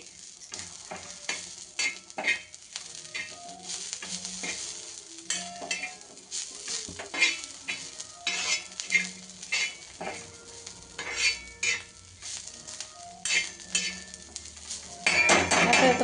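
Vegetables with ginger frying in oil for gavaran vanghe batate bhaji, loud crackling sizzle with frequent metallic clinks and scrapes of a spoon stirring, close up and continuous.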